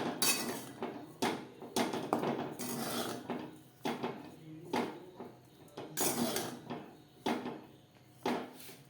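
A spatula scrapes and knocks against a pan while cooked chicken filling for Mughlai paratha is stirred with salt, making repeated close metallic clatters and scrapes in an irregular rhythm.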